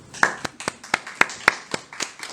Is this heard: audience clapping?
yes